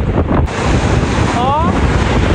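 Strong ocean waves crash on a Boracay beach, a loud continuous roar of surf mixed with wind buffeting the microphone, with a brief faint whistle-like tone partway through.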